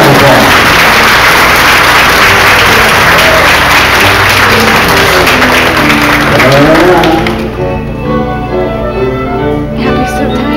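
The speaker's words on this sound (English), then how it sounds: "good round of applause" A dense round of applause for Junior Queen contestants at an Oklahoma pageant, loud and sustained for about seven seconds before thinning to a softer, quieter tail.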